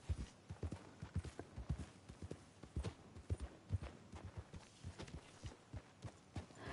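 Horse hooves clip-clop in a steady walking rhythm in a PS5 video game, soft even thuds continuing throughout at moderate level with no talking.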